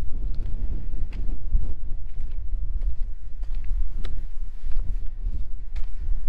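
Outdoor wind buffets the microphone in a steady low rumble with gusty bursts, alone and fairly loud throughout, on an overcast outing.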